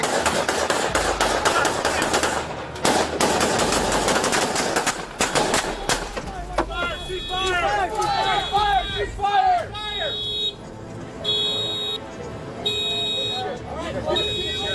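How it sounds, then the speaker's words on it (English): Police officers open fire on a knife suspect inside a van, a dense burst of rapid, loud gunshots over the first six seconds, followed by alarm-like beeping tones and shouting voices. "4 officers opened fire"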